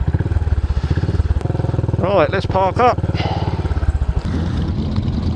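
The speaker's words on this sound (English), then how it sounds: "Bikes revving." Motorcycles gathered for the Ring of Red ride rumble at close range with a pulsing idle, one bike revving up sharply several times in the middle, while someone speaks briefly.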